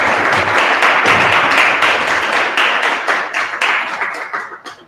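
A lecture audience gives a loud burst of close, dense clapping that fades out over about five seconds, with no talking.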